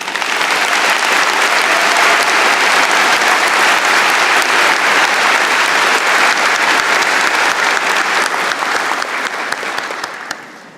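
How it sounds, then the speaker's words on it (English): A large convocation audience gives a loud, dense round of applause for absent nursing graduates. The clapping is sustained for about ten seconds and then tapers off at the end, with no voices over it. "Please join me in a round of applause for them."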